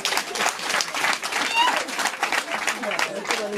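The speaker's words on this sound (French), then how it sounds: "on les applaudit tous" Guests applaud at a customary wedding celebration, a continuous wash of clapping from a crowd with lively chatter and voices running through it.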